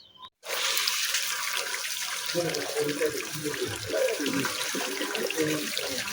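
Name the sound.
water draining into front yard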